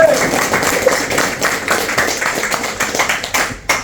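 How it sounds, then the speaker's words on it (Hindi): An audience claps loudly at a motivational talk on earning money, a dense continuous patter of many hands filling the room with a voice mixed in. "सब लोग हैं तो ठोको ताली जोरदार सब।"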